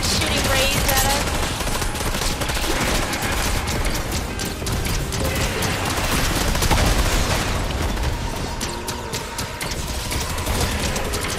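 Rapid gunfire and ray blasts fill a video game boss fight against Thorne, a dense, loud and continuous barrage of shots with mechanical clatter and booms, unbroken for the whole stretch.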